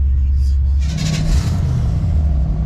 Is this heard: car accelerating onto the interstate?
yes